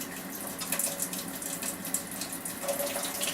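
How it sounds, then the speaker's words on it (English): Water runs steadily from a tap, filling a sink to bathe a kitten, a continuous close splashing hiss with no talk. "So I'm going to turn on my water."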